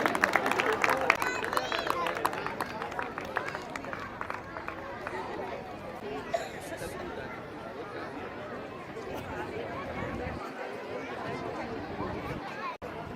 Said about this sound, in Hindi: प्लीज तालियां तो बजा दीजिए।